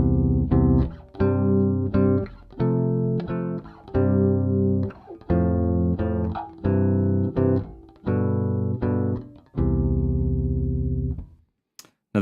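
Solo electric bass plays a sequence of arranged chords straight through, each chord ringing with clear harmonics and short breaks between them, loud and close with no talking.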